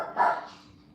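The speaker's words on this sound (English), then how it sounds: "my dog is barking" A dog gives a single short bark that fades quickly, moderately loud and near, with no talk over it.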